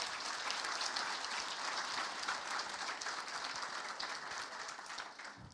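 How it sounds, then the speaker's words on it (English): A conference audience in the plenary room at Flock to Fedora 2025 applauds the event sponsors, giving a steady, dense wash of many hands clapping at moderate distance, sustained evenly throughout with no talking. "So a big round of applause for all of our sponsors this year."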